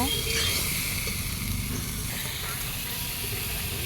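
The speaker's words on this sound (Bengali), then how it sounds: "এবার এটাকে আমি একটু মশলাটাকে ভালো করে ভাজা ভাজা করব।" Spices and tomato sizzle and hiss in hot oil in a pan, a steady close frying sound with some stirring and a voice talking over it.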